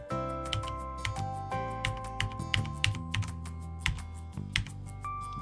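Keys on a Corsair Strafe RGB mechanical keyboard are typed in quick, uneven bursts of sharp clicky taps, close and clear against a steady background hum.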